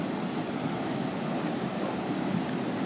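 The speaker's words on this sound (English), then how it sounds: "It's really windy." Wind blows at Dog Beach in Ocean Beach, a faint, steady rushing hiss mixed with distant surf, no voices.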